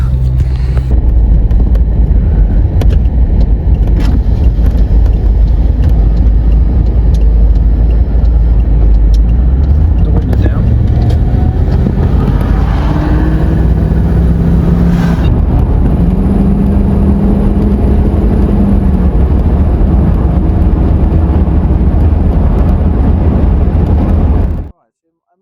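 Land Rover Discovery 2 driving with its exhaust fallen off, a loud, continuous low engine drone heard from inside, rising in pitch midway as the vehicle gathers speed, then cutting off abruptly at the end.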